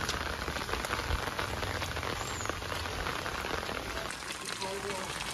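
Steady rain falls on a rainy day outside near a house, a dense continuous hiss throughout with some faint background sounds mixed in.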